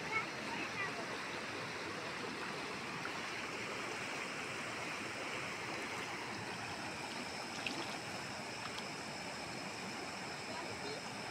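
Mountain stream water flowing on Deomali mountain, a steady, dense rush of water that stays loud and even throughout with no pauses.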